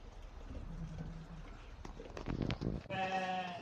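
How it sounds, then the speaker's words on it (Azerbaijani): Young female Tatalilar breed sheep bleat faintly in a pen, with a clearer bleat near the end over low rustling and shuffling. "damazlıq dişi toğullar satılır"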